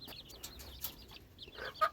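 Country chickens and roosters kept for sale cluck softly in short scattered bursts, fairly faint, with light background noise and no talking.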